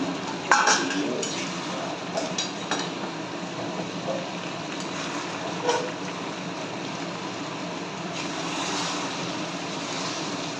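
A lid comes off a pot of kadai chicken with a few light metallic clinks and clatters over a steady cooking background hiss.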